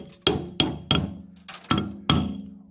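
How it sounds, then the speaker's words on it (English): A hammer strikes part of a homemade DIY grist mill six times in a loose rhythm, each blow a sharp, close metallic knock with a short ringing decay. "let me get a hammer"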